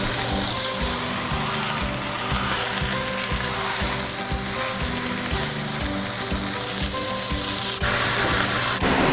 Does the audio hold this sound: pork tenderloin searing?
yes